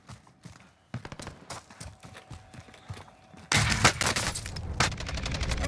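Rapid bursts of gunfire in a Call of Duty Warzone battle royale match, sparse clicks and shots giving way to a loud, dense barrage of fire that continues to the end.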